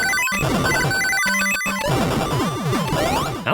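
Chiptune music from the Sega Master System's Sonic 2, Crystal Egg Zone, with busy square-wave melodies and chirpy sliding effects layered into a bright, slightly grating jumble.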